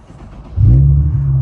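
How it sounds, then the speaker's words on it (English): An Infiniti G37 with a manual gearbox fires up after a short quiet lead-in. The engine catches abruptly and settles into a loud, steady, close idle rumble. "You gotta start the car again."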